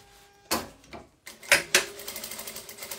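Curved fabric pieces are stitched together on a sewing machine while making Christmas decorations, with a few sharp mechanical clacks and then a quicker run of light rhythmic stitching pulses close by.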